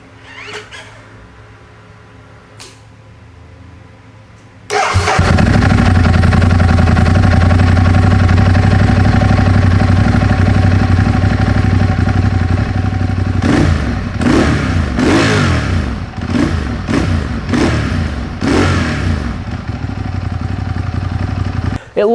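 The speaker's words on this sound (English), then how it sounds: "this is one of the better sounding stock exhausts in the Monster lineup. Let's take a listen." Ducati Monster 821 motorcycle with its stock exhaust, idling quietly and then barking into a loud, close rev that settles into a deep, steady rumble with repeated throttle blips.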